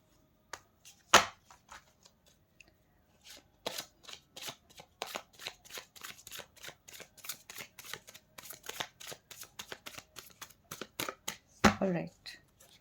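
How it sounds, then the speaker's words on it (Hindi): Tarot cards being shuffled by hand, with a long run of crisp, rapid riffling flicks in uneven bursts, close and clear, and a louder bridge-style riffle near the end. "Last shuffle."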